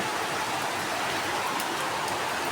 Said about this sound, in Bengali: আজকেও বৃষ্টি নামতেছে